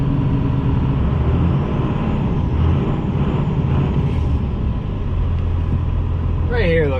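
A 12 valve diesel truck with mud tires drives through a winter blizzard, a loud, constant engine drone and road rumble heard from inside the cab, with a brief whine near the end.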